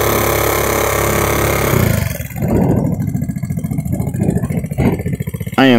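A 150cc GY6 scooter engine runs steadily, then its idle sags into a rough, uneven putter with irregular dips and surges, close and fairly loud.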